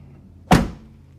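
A single solid thunk as the rear seat of a 2015 Ford Explorer XLT SUV folds down and locks into place, short and close, with quiet interior ambience around it.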